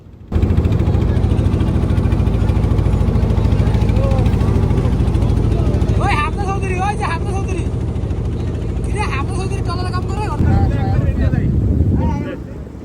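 A trawler boat cruising on a river, its engine droning steadily as a loud low rumble throughout, with wind buffeting the microphone and people talking over it in the middle and near the end.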